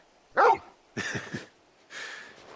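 A large dog, Torgal from Final Fantasy XVI, gives three separate close barks, the first sharp and loud, the next a quick rough double bark, the last softer and more drawn out.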